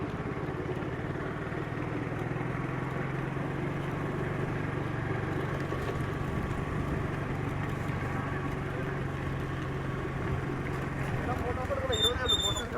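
A motorbike ridden across the top of Kundala Dam in Munnar during the monsoon, a steady low engine drone and wind rumble holding throughout at an even level.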